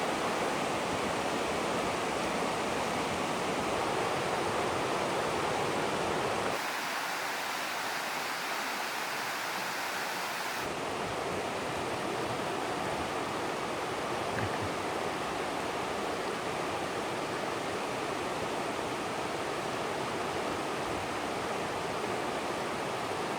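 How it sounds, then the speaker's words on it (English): A fairly full river flows at a fish hatchery in a steady broadband rushing wash, continuous and close, with a brief stretch where the low rumble thins out before returning, and no voices. "In a fairly full river."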